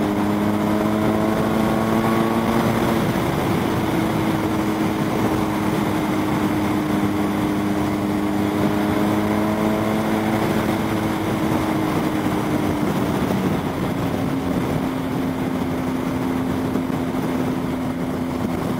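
A BMW 1250 GS HP motorcycle runs flat out on the Autobahn, its engine a loud sustained whine that holds steady and shifts slightly in pitch, buried in heavy wind roar throughout.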